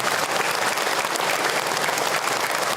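Audience applause at an Islamic religious talk in Indonesia, a steady, dense wash of many hands clapping together, loud and close, sustained evenly throughout with no voices rising above it.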